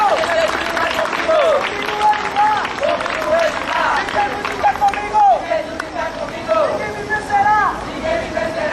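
Crowd on a parish Bible walk claps for community youth groups, steady applause mixed with voices and bustle, some high whistles or calls cutting through.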